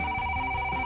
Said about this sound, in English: A phone ringing.